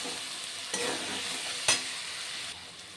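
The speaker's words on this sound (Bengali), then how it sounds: "মশলাগুলো আমি তেল এই টমেটো আর আলুর সঙ্গে ভেজে নেব" Spices such as cumin and coriander powder fry in oil with tomato and potato for a rohu fish curry, giving a steady soft sizzle with a couple of brief stirring scrapes and no talking.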